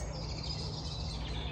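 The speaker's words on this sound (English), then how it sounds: "just to use all of the sounds from the birds to just help us relax" Birds chirp outdoors at sunset, a steady wash of high tweets and calls over a constant low background hum, fairly faint and continuous with no talking.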